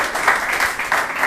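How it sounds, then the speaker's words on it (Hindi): Church congregation at a Sunday service claps for first-time visitors, a steady dense patter of many hands with a loose rhythmic pulse, fairly loud and close. "इनके लिए हम जोरदार तालियां बजाएंगे"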